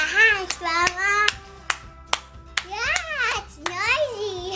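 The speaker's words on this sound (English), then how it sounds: "Clap your hands, Mama." Hands clapping in sharp, separate claps at irregular intervals, close and loud, mixed with a young child's babbling and high-pitched speech.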